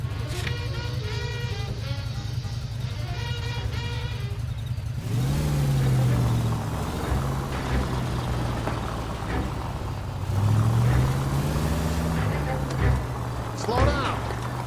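A car engine drones and revs as it drives in L.A. Noire, pitch rising and falling through gear changes, while voices talk over it.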